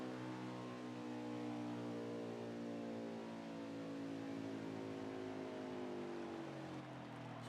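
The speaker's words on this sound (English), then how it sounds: "you can just hear from the quiet engine note on the 13, he really is being gentle with that throttle" A single race car engine hums at gentle throttle to save fuel, its steady droning tone shifting slowly in pitch as it passes, moderately close with no voices over it.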